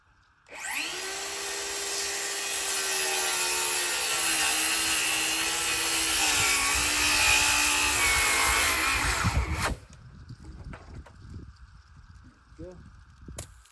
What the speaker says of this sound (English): I could easily cut that with a chainsaw.